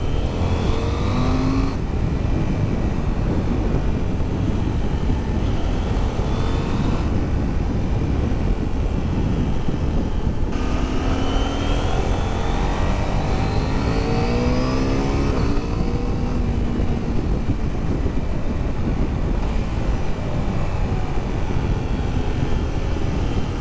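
A Husqvarna Svartpilen 801 motorcycle on the road, its engine droning steadily and loud for the whole stretch, rising and falling in pitch through several gear changes as it accelerates, with heavy wind rush throughout.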